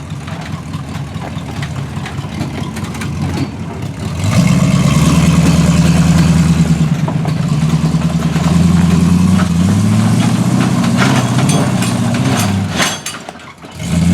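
A heavy wrecker truck's engine labors up a rocky off-road mountain trail. It idles low at first, then surges into a loud, sustained straining roar with shifting pitch before briefly dropping and picking up again.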